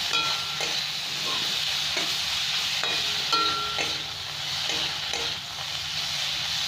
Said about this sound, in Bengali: এখানে টমেটো কুচি আর কাঁচা লঙ্কাটা দিয়ে দিচ্ছি। এবার একটু ভালো করে ভেজে নেবো